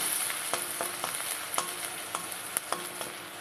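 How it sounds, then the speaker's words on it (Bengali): Ginger fries in a wok with dry red chillies, cinnamon, cloves and cardamom, giving a soft steady sizzle broken by repeated sharp scrapes and taps of a stirring spoon, close and without speech. "খেয়াল রাখতে হবে আদাটা যেন সুন্দর ভাজা হয়ে যায়"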